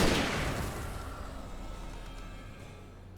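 A flashbang grenade goes off in the Alan Wake video game, a single loud booming blast at the start that decays into a long fading rumble.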